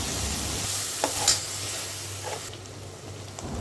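Chopped tomato and chilli powder fry with goat intestine for a spicy Maharashtrian curry, giving a soft continuous sizzle with a few brief stirring scrapes and clicks and no talking.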